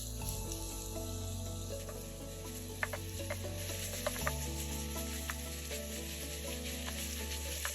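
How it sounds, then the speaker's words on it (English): Sausages sizzle and fry in a hot oiled pan, a steady continuous crackle with occasional small pops and light clinks, close and fairly loud, with a low hum beneath. "Once the pan is hot, I'll add in the sausages."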